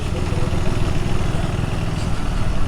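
A KTM Adventure 390 motorcycle with a 399cc engine idles: a loud, steady, close low rumble with no change in pitch.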